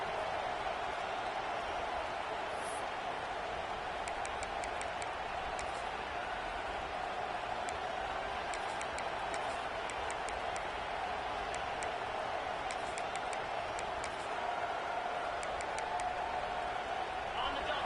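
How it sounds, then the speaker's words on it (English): Football stadium crowd at a college game, a continuous loud roar of many voices filling the space, with a commentator talking over it. "This crowd going to try to make life miserable for these guys."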